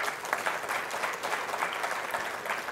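Sustained applause from an audience at a closing ceremony for a Senegalese minister, steady and dense throughout, moderately distant and without voices over it.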